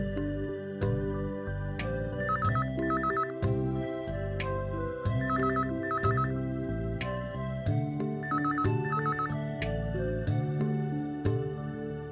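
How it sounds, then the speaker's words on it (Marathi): A telephone rings in a Marathi TV drama household: repeated trilling ring bursts sound at regular intervals, moderately loud, over a continuous background music bed, with no talking. "लक्ष्मी तुझ्यासाठी फोन आहे."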